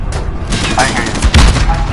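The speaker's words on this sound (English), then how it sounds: "Enemy cruise missile incoming, take cover!" Cruise missile strike in Modern Warfare, a burst of heavy booms and crackling blasts rumbling close and loud over about two seconds, with a voice shouting amid the chaos.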